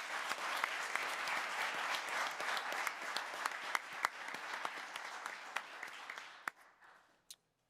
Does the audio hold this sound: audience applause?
yes